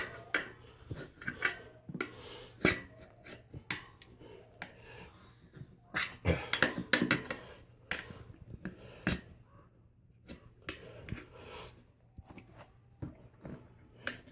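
Dirt bike front tire being worked onto the rim with a tire spoon: a series of scattered clicks, scrapes and taps of metal against rubber and rim, close up and moderately loud, with pauses between bursts of activity.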